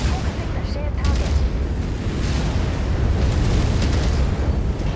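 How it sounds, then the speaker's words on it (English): Missile hits exploding in MechWarrior 5 blend into a continuous loud, rumbling barrage of booms and bursts, with heavy low-end rumble sustained throughout and voices heard faintly under the battle noise. "They're getting missile hits because they got sensors on me."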